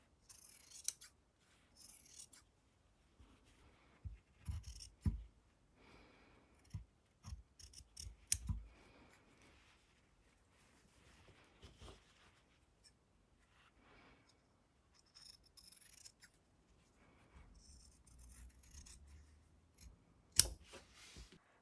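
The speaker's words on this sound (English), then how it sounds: "cut away along the mark you just created, the mark closest to the bottom, to get rid of the excess fabric" Scissors cut the excess fabric off the hem of dress pants, making quiet, close snips in irregular bursts with short pauses between cuts.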